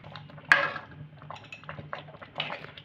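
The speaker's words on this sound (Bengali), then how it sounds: "এবার ঢাকা খুলে দেখে নেব।" A metal lid lifts off a pot of boiled raw mango with one sharp clink, followed by faint scattered clatter of the lid and pot in a quiet kitchen.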